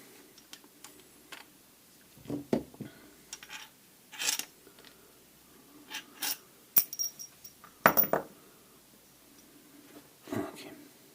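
Small metal screws from a Karcher K5 Premium Full Control Plus pressure washer under repair clink and drop in several brief, scattered taps and rattles, close by in an otherwise quiet room.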